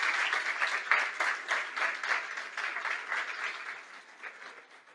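Congregation applauding during a family church service: steady rhythmic clapping from a medium-sized group, fairly close, slowly tapering off toward the end without talk.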